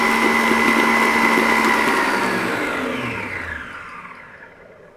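Loud, steady whirring of an electric mixer at maximum speed whipping Italian meringue, a high motor whine that holds, then winds down and fades toward the end.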